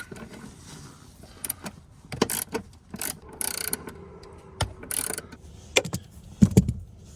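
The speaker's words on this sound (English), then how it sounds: "I've got a deep socket on there right now because the post is pretty long" A deep socket wrench works on a long battery terminal post of a Dodge Durango, giving sporadic close ratcheting clicks, metallic taps and scrapes separated by quiet gaps.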